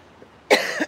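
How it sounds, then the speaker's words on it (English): A single harsh cough bursts out near and loud after a brief quiet pause, from an adult host speaking during a live garden chat, ending in a short throaty catch. "So all of a sudden I'm starting to cough."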